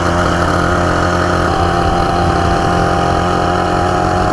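A mini superbike engine runs steadily and loudly close by, a continuous idling drone with a rough mid-range rumble throughout.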